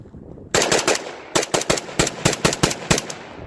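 Marcolmar CETME L rifle emptying a full magazine: about a dozen loud, sharp gunshots close by in irregular bursts of two and three after a short quiet lead-in, each crack ringing briefly.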